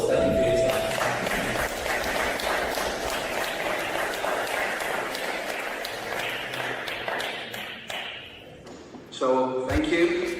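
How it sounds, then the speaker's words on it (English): A large audience at a Vatican event applauds in a sustained, dense burst of clapping that fades toward the end before a voice briefly speaks. "Give yourselves a massive round of applause."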